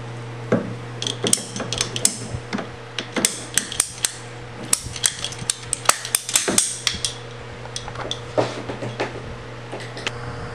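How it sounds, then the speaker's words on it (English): Kayak pump hose being cut to length while installing a Malibu Kayaks Stealth pump kit: irregular sharp clicks and snaps over a steady low hum, close by with no talking. "And then we'll cut the hose to length."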